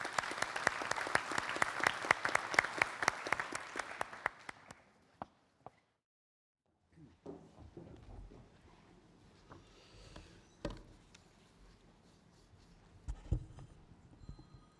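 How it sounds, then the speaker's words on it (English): A conference audience at the University of Malaga claps loudly and steadily for a few seconds, then the applause fades out, followed by quiet rustling and a few scattered knocks. "let's welcome him with a big warm applause"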